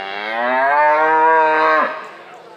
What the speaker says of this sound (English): Two good Beefmaster heifers.